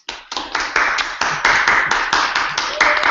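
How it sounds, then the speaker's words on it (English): Applause after a poetry reading at an online poetry event, a few close hands clapping in a quick, uneven rhythm, loud and steady for about three seconds with no talk. "Bring your own applause."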